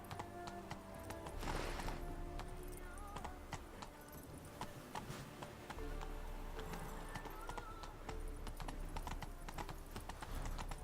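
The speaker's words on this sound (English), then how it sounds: "Run, Roach." Horse galloping in The Witcher 3, a steady rapid clip-clop of hooves running throughout with a brief neigh near the start, moderately loud with no talk.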